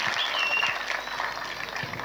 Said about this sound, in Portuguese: Forte salva de palmas para ele.